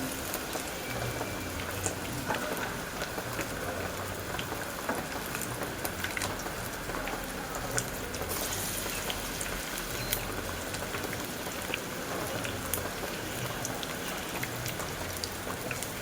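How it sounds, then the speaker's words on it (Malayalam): Batter frying in hot oil in a pan on the stove gives a dense, steady crackling sizzle that runs unbroken and evenly throughout, heard up close. "നമുക്കൊന്ന് വറുത്തെടുക്കാം."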